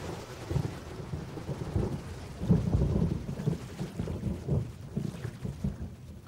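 A thunderstorm over Lake Chiemsee brings loud, rolling thunder in repeated low rumbles over a steady wash of rain, with no voices.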